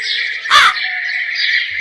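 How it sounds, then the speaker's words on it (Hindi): A crow in an animated Hindi moral story gives a single loud, harsh caw over a steady bright tonal background, brief and close. "ये सुनकर कौवा जोर जोर से रोने लगता है।"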